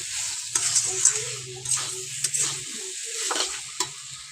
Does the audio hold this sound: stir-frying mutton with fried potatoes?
yes